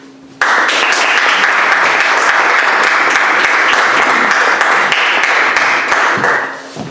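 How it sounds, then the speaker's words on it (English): A public-speaking club audience bursts into loud, dense applause for an incoming speaker, sustained for about six seconds before tapering off at the end. "introducing with a round of applause,"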